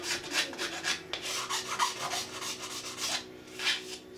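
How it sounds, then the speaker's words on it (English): A flat file rasps across the edges of a 3D printed ABS part to take off lips and burrs. Repeated close, scraping strokes come in a steady back-and-forth rhythm with no talk. "So just take a flat file"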